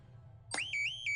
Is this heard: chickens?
no